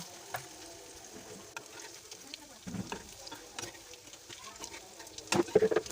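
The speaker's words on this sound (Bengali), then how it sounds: "আমি আগে থেকে তেল গরম করে রেখেছি, এখন অল্প আছে ভেজে নিব" Shrimp fritters in turmeric-spiced batter frying in a little hot oil: a soft, crackling sizzle with scattered pops and stirring scrapes, growing busier toward the end.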